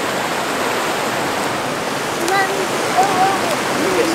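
Fast-flowing river water at Bald River Falls rushes in a steady, loud broadband roar throughout, with faint voices and brief whistling tones rising over it near the end.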